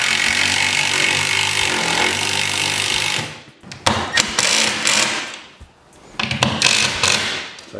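A hand tool works on a projector mount, with a dense, loud clatter for about three seconds followed by scattered sharp ratcheting clicks and knocks, close by and with no talking.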